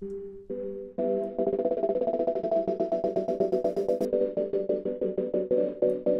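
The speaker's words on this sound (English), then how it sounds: "If I reverse it, it's gonna become like a pluck sound." A synth tone swelling in reverse, with rapid repeated plucked notes rising into a bright, ringing chord that sustains and pulses steadily to the end.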